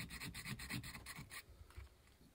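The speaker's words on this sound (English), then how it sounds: "I'll just make it nicer with some sandpaper" Rapid back-and-forth rasping of sandpaper on a metal tube, about seven quick strokes in a steady rhythm, then it stops and only faint scraping remains.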